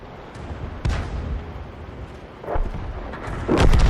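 An SU-8 self-propelled gun in a World of Tanks style tank video game fires rounds and lands hits, heard as a few deep booming blasts with rumbling tails spaced over a few seconds, loud and close over a low battle rumble.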